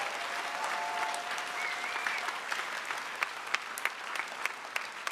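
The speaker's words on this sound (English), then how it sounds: "Let's give them a round of applause." An audience applauds at a grade 5 promotion ceremony with a steady, fairly faint patter of many hands, ending in a few sharper individual claps.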